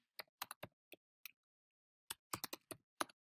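Keys tap on a computer keyboard while code is entered, a couple of quick clusters of sharp, close clicks separated by a short silent pause.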